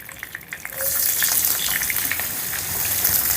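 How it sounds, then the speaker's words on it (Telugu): Finely chopped onion drops into hot oil with whole spices for tomato pulao. A few light taps give way to a sudden loud sizzle that holds steady and close. "ఇప్పుడు ఈ ఉల్లిపాయల్ని మంచి బంగారు వర్ణం వచ్చేంత వరకు వేపుకుందాం"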